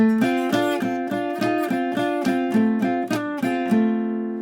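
Electric guitar plays bright two-note double stops in a bouncing rhythm, several sliding figures ringing out before a final sustained chord.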